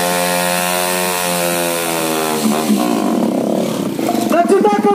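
A KTM motorcycle revs at a stunt show on a sandy pavilion ground in Khammam. A loud, rising engine whine climbs in pitch, then breaks into rough, choppy revving bursts close by.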